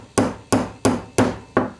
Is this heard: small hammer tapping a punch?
yes